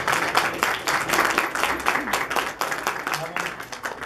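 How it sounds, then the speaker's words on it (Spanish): An audience at a school debate tournament applauds both debate teams, with a sustained burst of clapping that rises and falls slightly in intensity and stays fairly loud across the whole stretch. "Le damos un aplauso a ambos equipos."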